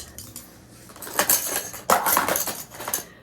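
Camping utensils, wooden spoons and a stir stick among them, clatter and clink as they are sorted by hand, with bursts of rattling metal and wood knocks close by, no talking.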